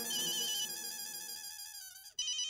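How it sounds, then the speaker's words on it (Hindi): A phone ringtone plays as a loud, steady electronic melody of repeating tones that cuts off abruptly near the end, followed by a brief higher tone burst. "जेठालाल का फोन।"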